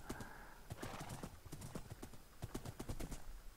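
Horse hooves clip-clop at a quick, steady riding pace in the video game Minecraft. The beats are close but faint, with brief speech in the background.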